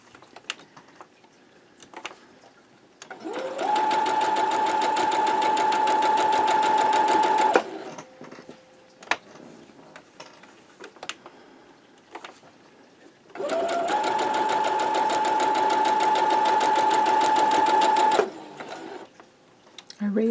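A sewing machine chain piecing quilt block pieces runs in two long steady whirring stretches with a pause between, while a person talks quietly in the gaps.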